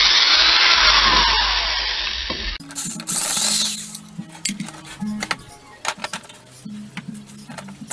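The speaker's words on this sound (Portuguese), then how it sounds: "Pra furar ferro, tem que ser baixa rotação" An electric drill bores into iron at low speed, giving a steady, loud grinding whir for about two and a half seconds before it stops, followed by scattered clinks and light handling noises.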